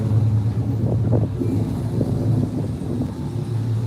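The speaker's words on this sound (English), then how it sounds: "here comes this loud car right now" A loud car passes on a street, a low rumbling engine swelling and fading, with wind buffeting the microphone near a walking pedestrian.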